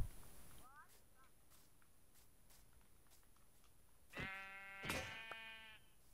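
A few faint clicks, then a sheep in a hardcore-mode video game bleats twice in quick succession near the end, clear and nearby against a quiet background.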